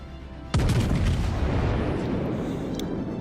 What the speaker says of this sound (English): He shot at that battleship up in front.